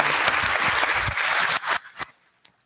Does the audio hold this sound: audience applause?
yes